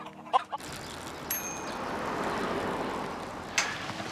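Backyard hens clucking close by, a couple of short clucks at the start, then a steady rustling noise with a high ringing tone and another brief cluck near the end.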